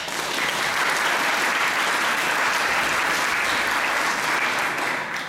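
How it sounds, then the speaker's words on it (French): Loud, dense applause from a congregation inside a church during a ceremony, continuous and even throughout, with no voices standing out. "je crois qu'on peut les applaudir aussi."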